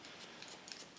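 Quiet scissor snips cut hair for a short pixie cut, a close, soft sequence of about six quick crisp snips spaced unevenly across a second.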